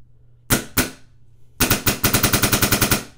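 A freshly cleaned and aired-up paintball marker fires two separate sharp pops, then a rapid burst of about a dozen quick snapping shots, loud and close with no voices.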